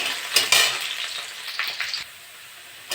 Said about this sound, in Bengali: আমি এবার পেঁয়াজ দিয়ে দেবো, একটু ভেজে নেবো।